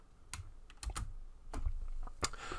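A computer keyboard clatters with a handful of separate, sharp key presses at an uneven pace, close and clear with no voices, like a Ctrl-V paste in a word processor.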